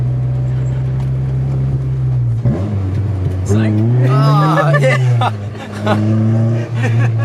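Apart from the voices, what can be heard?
Honda S2000 with loud exhaust driving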